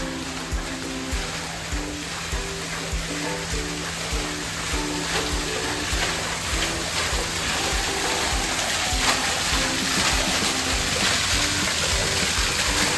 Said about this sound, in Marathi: खरंच धबधबा आहे मित्रांनो